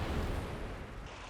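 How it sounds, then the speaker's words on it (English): A mortar shell impact in Company of Heroes 3 lands as a dense, loud rumbling blast. The broadband roar holds for about a second before tailing off, with no speech. "Some other explosion effects have been changed too, such as mortars."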